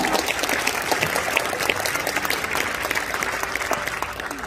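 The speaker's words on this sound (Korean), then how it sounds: "박수로 맞아주세요" Applause from a graduation audience fills the room with steady, dense clapping at a constant level, with no voices over it.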